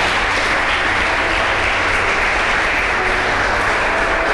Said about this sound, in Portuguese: você pode aplaudir o Senhor por isso?